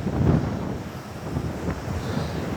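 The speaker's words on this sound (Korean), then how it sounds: "저 파도가 장난 아닙니다, 여러분들." Heavy sea waves surge and roar at a beach during Typhoon Maysak, a continuous low rumbling wash close by, with wind buffeting the microphone.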